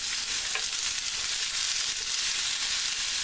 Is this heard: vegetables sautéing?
yes